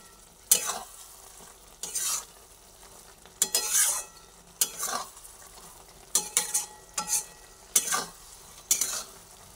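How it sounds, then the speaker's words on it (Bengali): A spoon stirs ridge gourd malai curry after a paste is added, scraping the pan in repeated bursts with a soft sizzle between strokes. The sound is close and carries no talking. "আবার ভালোভাবে নাড়াচাড়া করে পুরোটার সঙ্গে মিশিয়ে দিচ্ছি।"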